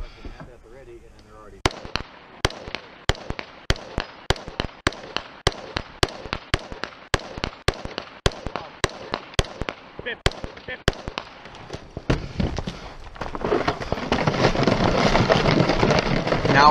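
Rapid rifle shots fired at targets during a 2-gun shooting stage in Arizona, about fifteen sharp cracks in steady rhythm over several seconds, followed by louder broadband noise of movement and wind.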